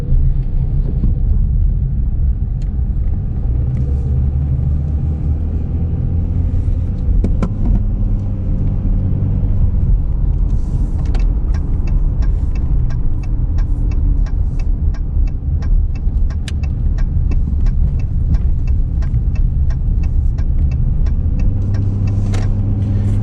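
A 2020 Dodge Challenger SXT muscle car's engine rumbles continuously while driving on a road, loud and close, with a steady low drone and occasional rattles or clicks.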